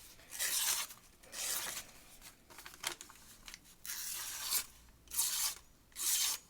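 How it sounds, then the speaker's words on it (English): A Wusthof chef knife freshly sharpened on an ultra coarse Shapton whetstone slices through paper in about six short raspy strokes, each a crisp tearing swipe, fairly quiet and close. "You guys can hear it's actually a very clean cut"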